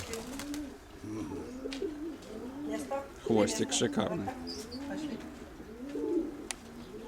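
Pigeons coo repeatedly in a loft, with soft rolling calls close by, while someone talks over them and a louder flurry comes in the middle.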